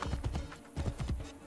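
A horse's hooves clip-clop in quick, rhythmic pairs in Assassin's Creed Brotherhood, a steady trotting gait that is close but fairly quiet, with no talking.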